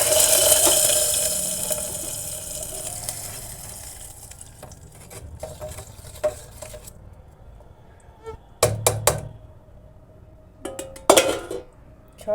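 Loud hissing sizzle at first as spices hit hot oil, fading over several seconds, followed by clinks of a spoon against a pan.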